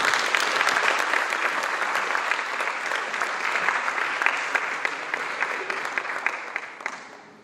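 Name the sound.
audience applause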